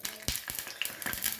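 Mustard and other tempering seeds crackle and sizzle in a little hot oil in a pan for mango charu, with sharp irregular pops and spits over a soft frying hiss, close up and fairly quiet.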